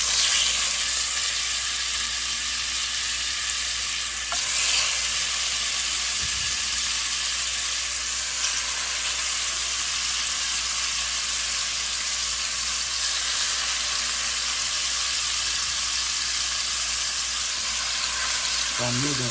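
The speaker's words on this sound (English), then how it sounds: "Now we'll go ahead and mix it in" Seasoned barbecue spareribs being tossed and stirred with vegetable oil, giving a steady close sizzling, frying hiss with faint stirring scrapes throughout, no talking.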